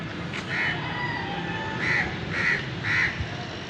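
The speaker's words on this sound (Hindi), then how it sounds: "मस्जिद के मीनार के ऊपर 2 कौवे बैठे हुए हैं।" Crows perched on a mosque minaret caw several times, one call then three close together, moderately distant over a quiet outdoor background.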